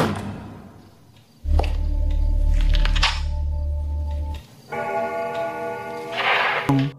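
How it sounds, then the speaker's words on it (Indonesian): A wall clock in a silent house gives a few loud, close ticks and thunks over a low hum, with no voices. "Suasana yang sangat sunyi, hanya terdengar detik jam dinding"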